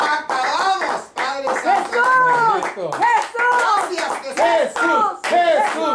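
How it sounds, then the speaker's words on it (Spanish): A church congregation claps steadily and continuously while voices shout loudly and repeatedly over the clapping. "Y dele un aplauso al Señor,"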